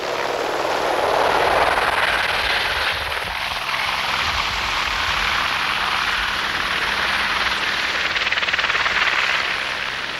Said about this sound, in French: De nombreuses rotations pour les hélicoptères, plusieurs tonnes transportées